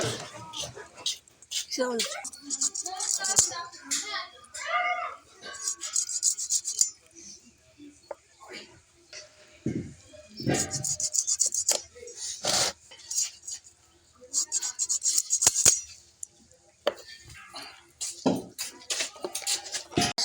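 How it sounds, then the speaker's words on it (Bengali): Duck meat and its thick fat being cut by hand, with scraping, rubbing and clinking knife strokes in irregular bursts, close and moderately loud, while someone talks between the cuts. "মাংস কাটা"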